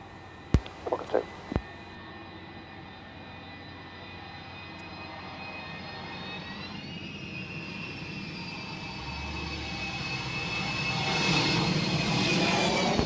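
An Avro Vulcan landing at an airshow gives off a steady, rising jet-engine roar with a high whine over it, growing louder and nearer, after a few sharp clicks at the start.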